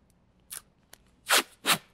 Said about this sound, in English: cut a piece of parchment paper to match the exact size